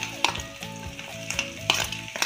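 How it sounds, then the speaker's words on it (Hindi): Chillies, garlic and ginger fry in a pan for a paneer chilli dish, a quiet soft sizzle with a few sharp stirring scrapes and clatters, close up, with no talking. "मेरा मिर्च भी अच्छे से फ्राई हो रहा है और लहसुन भी गोल्डन हो रहा है।"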